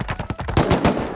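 Rapid automatic gunfire from the survival video game Rust crackles in a close, loud burst of quick, evenly spaced shots with no talking.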